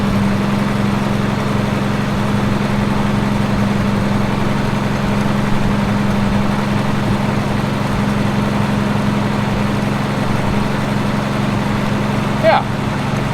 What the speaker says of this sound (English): Let's just see if this generator's putting anything out.